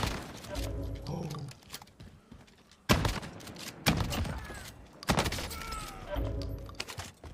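Shotgun fire in the video game Warzone, with several loud, sharp blasts spaced a second or two apart among busy gameplay noise, as players talk excitedly over the action.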